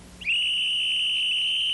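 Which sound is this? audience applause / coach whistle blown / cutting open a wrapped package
coach whistle blown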